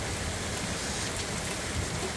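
Torrential rain pours steadily during a thunderstorm in Van Nuys, California, a dense continuous hiss of heavy rainfall hitting surfaces, loud and unbroken with no voices.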